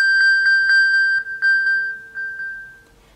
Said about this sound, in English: So I'm just gonna ping her phone for a moment.